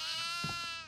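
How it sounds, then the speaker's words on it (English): Goat bleating in the horror video game DEVOUR, a single drawn-out nasal bleat, clear and close, with no talk over it. "What's the goat doing? I'm just a goat in here."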